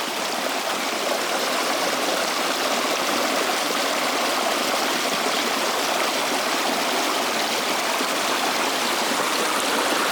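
Even, continuous rush of a big foamy waterfall in bushland, a close, full-bodied hiss of pouring water at steady loudness from start to finish, no speech over it.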